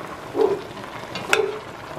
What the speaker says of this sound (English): I would give it a nice stir